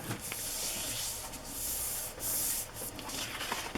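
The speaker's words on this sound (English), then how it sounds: "I'm going to fold this straighter and then just tear it" A journal page is folded and torn, giving close papery rubbing and scraping swishes in a few sustained strokes that end in a quick rip, fairly quiet with no voice.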